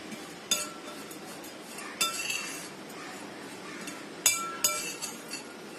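Grated cheese and flour are mixed in a bowl, and a utensil gives several faint, sharp clinks against the bowl, spaced out and close by in a quiet room.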